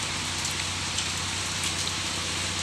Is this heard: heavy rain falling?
yes